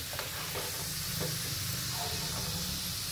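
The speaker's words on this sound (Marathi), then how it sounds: "आता लगेच आपण ह्याला पलटून घेऊ आणि दोन्ही बाजूने चांगले तळून घेऊ." Wheat flour ladoos deep-frying in hot oil, a steady dense sizzle and hiss filling the whole stretch with faint stirring or turning sounds, close and continuous.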